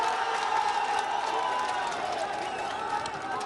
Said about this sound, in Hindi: तालियों के साथ राजा यादव का स्वागत